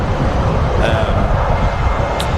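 A 33-year-old Jet2 Boeing 757 takes off from Manchester Airport with a steady, loud jet roar and rumble, and faint voices are audible beneath it.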